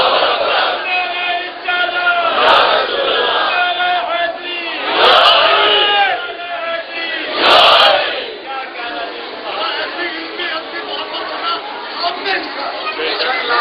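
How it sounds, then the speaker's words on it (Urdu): A large crowd at a Shia religious majlis shouts slogans in unison, with loud surging voiced chants that peak in waves around the middle, the many voices blending into a sustained roar. "تو پھر کیوں لگا رہے ہو نعرے؟"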